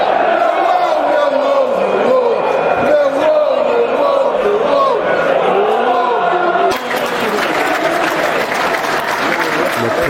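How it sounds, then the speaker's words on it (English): Dense crowd applause fills a Millwall football stadium during a match against Peterborough United, loud sustained clapping from a large crowd with voices rising through it, swelling slightly near the end. "And applause"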